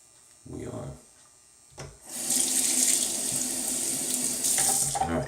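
Tap water running into a sink while rinsing after a shave, a strong steady splashing stream close by after brief talking and handling sounds.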